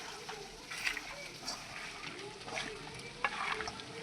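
Beef tripe being kneaded with spices by hand, giving faint, wet squelching and slapping sounds in an irregular rhythm, close by and quiet.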